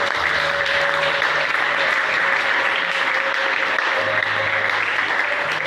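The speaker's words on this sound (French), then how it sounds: "Est-ce qu'on va applaudir toujours?" An audience at a church teaching service on the Holy Spirit claps steadily and loudly in dense continuous applause, with a faint voice underneath.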